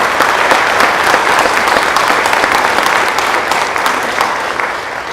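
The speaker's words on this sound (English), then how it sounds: "A round of applause" Loud, close audience applause at a new Army officer commissioning ceremony honors a colleague, a thick, continuous burst of many hands clapping that holds strong throughout and eases only slightly near the end.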